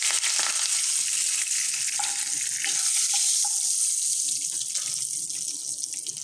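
Whole spices with cinnamon, black cardamom and bay leaf frying in hot oil, a steady loud sizzle with some faint clinks, no talking.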